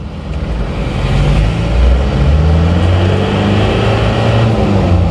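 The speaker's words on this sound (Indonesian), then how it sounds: "ini kita coba ini mulai dari gigi 1. Ini RPM nya sudah bisa naiknya cepet." A Mitsubishi Panther diesel engine, recently serviced for low power, revs in first gear from inside the vehicle. A loud, steady drone climbs in pitch as the RPM rises quickly, with no talking.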